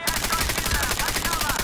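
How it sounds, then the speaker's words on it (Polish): Rapid automatic gunfire from a Medal of Honor: Warfighter match, a dense stream of close, loud shots rattling without a break for under two seconds. "Ktoś tutaj do mnie strzela"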